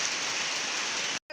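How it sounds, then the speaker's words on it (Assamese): Steady rain falls in a soft, even hiss, close and moderately quiet, before cutting off abruptly at the end. "এয়া বৰষুণ দিলা"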